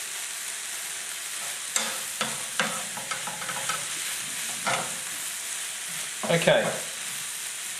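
Onions and bacon frying together in a pan give a soft continuous sizzle broken by scraping stirs and clatters, with a short spoken word at one point.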